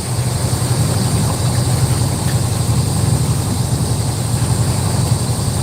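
A boat engine runs at raised RPM on a trip toward Lombok, Indonesia, making a steady, loud low drone with broadband wind noise on top, continuous throughout while someone talks briefly over it.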